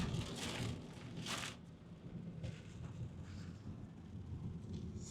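Thunder rumbling during a storm, with a loud, deep roll at the start and sustained low rumbling plus rain-like noise throughout, heard alone without talk.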